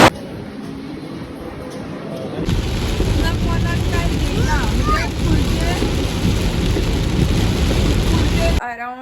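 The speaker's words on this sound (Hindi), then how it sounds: "रास्ते में आते वक्त बहुत बारिश थी" Heavy rain with thunder on a road trip home from Mangaon Datta mandir, a dense, loud roar of downpour with low rumbling that starts suddenly after a quieter stretch and cuts off near the end.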